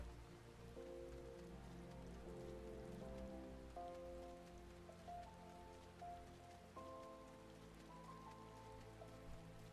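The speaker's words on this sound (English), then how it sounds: "It's raining. Is there variable weather in this game?" Steady, soft rainfall hisses in a video game world, even and continuous, with quiet tonal game music notes drifting over it throughout.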